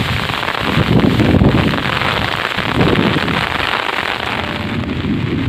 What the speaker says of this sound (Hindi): यहाँ बादल गरज भी रहे हैं और बरस भी रहे हैं।